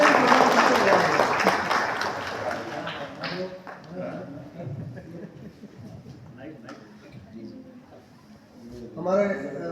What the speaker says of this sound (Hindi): जितने लोग हैं सब अपने लिए ताली बजा सकते हैं आप लोग